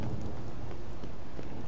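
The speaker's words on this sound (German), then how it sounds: "Oder weil es Gewitter ist?" Steady rain and a stormy rumble from The Witcher 3 form an even, close wash of sound with no talking.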